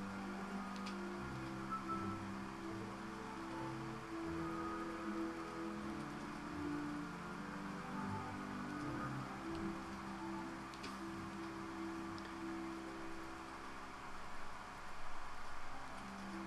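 Steady, soft patter of rain falling on a surface in a Peppa Pig video game, continuous and even throughout, with faint background hum and no voices.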